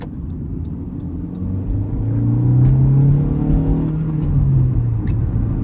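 Manual 2019 Honda Civic LX with a 1.5-liter engine, heard from inside as it accelerates. A steady low drone rises in pitch, eases through a shift, then climbs again, loud and close with no talking.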